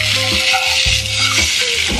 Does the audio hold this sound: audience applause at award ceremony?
no